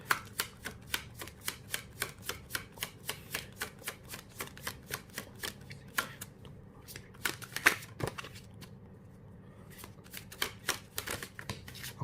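Tarot cards are shuffled in a steady run of crisp riffling flicks for about twelve seconds, briefly pausing and then resuming, soft and close with no talk.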